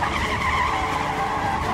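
A car skids as it is driven off a highway, giving a steady, loud tire squeal and rushing noise that holds without a break for nearly two seconds.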